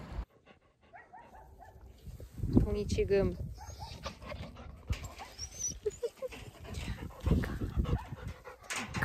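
A dog pants and whimpers close by in a countryside setting, with quick breathy bursts and soft whines mixed in among people talking.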